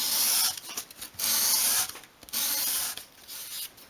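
Small wooden piece for a 1/12th scale chest of drawers rubbed against sandpaper at an angle, giving a close, dry rasping in repeated sweeping strokes with brief pauses between them.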